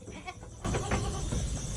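A newborn baby goat bleats nearby, a short wavering bleat rising out of low farmyard background noise and continuing for about a second.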